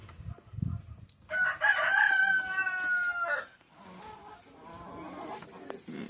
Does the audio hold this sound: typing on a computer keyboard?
no